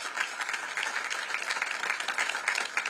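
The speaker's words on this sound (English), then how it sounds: "Would you give them a round of applause?" Audience applause at an Oakland mayoral debate, a steady dense patter of many hands clapping for about three seconds, moderately distant and without voices.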